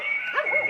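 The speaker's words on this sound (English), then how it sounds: "Dog." A dog gives a single short, high yelping bark, brief and close, with a whiny rising and falling tail.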